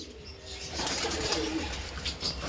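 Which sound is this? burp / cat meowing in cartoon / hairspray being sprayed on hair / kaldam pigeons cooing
kaldam pigeons cooing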